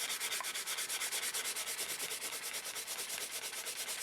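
Rough newsprint rubbed back and forth across a comic book, a steady rapid rhythmic scratchy swishing that continues alone and close for the whole stretch.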